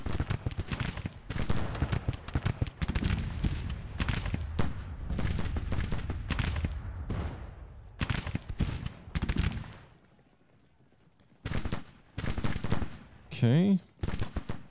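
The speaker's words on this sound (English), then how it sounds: "I think it's battery of artillery, and I guess it says you're firing." Artillery battery and rifle fire in Grand Tactician: The Civil War, a dense run of loud rapid booming and crackling shots, pausing near the end before resuming; someone talks underneath.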